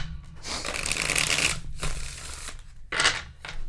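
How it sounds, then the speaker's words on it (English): Tarot cards being shuffled up close, two riffling bursts of crisp, papery flutter separated by brief pauses, quiet and without voices. "Let me just shuffle a few more times."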